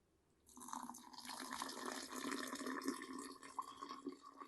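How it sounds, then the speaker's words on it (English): Boiled water poured into a fermenter for making strawberry wine, a sudden splashing gush that starts after a quiet moment and keeps running steadily, fairly close and alone. "So we're going to dissolve this with our boiled water."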